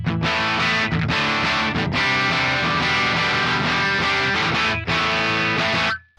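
Overdriven electric guitar through an Axe-Fx III Dumble Overdrive Special amp model with the treble turned down, a continuous loud passage of chords and notes with one short break before a final phrase that fades out.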